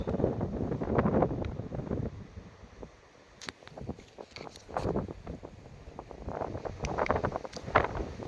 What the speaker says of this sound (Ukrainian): Надіюсь, вітер не буде дуже задувати, тому що вітрюган страшний